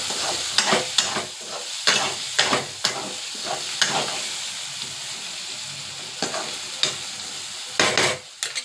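Brain fry is stirred in a pan over high flame, a spatula scraping and clacking in irregular bursts against the metal above a soft continuous sizzle, close and moderately loud.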